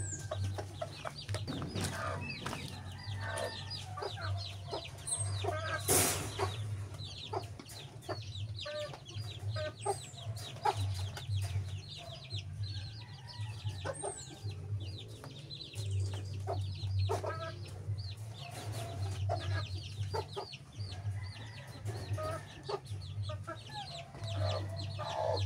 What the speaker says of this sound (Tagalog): ang una-una ko pong palalabasin dito yung inahin. At magsusunuran na rin yung mga sisiw niya